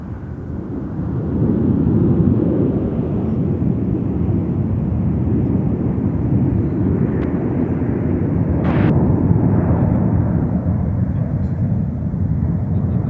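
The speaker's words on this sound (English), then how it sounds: "It's another Delta A321 arriving on runway 12 right" A Delta Airbus A321 jet airliner arriving on runway 12 right at MSP airport gives a loud, steady low roar that swells early and holds throughout, with a faint radio voice briefly in the background.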